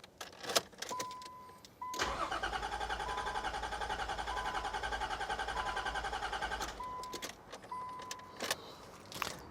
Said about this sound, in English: I'm going to try starting the car a couple of times until it doesn't start anymore